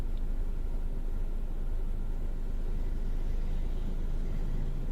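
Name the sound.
car driving through Roquetas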